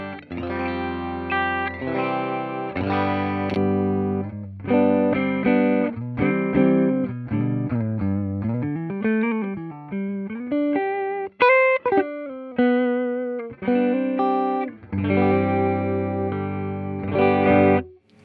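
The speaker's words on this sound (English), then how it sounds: "Here's my clean tone on the neck pickup." Clean electric guitar on the neck humbucker through a Fender Deluxe Reverb amp, playing chords and melodic bends with a warm, round tone, sustained notes ringing continuously.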